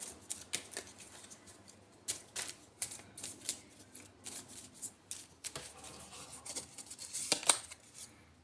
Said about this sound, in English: I'll pull out a couple of astro cards here.